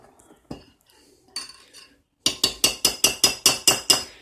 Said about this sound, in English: Make sure that you put a spoon in it so that the yeast has something to cling to rise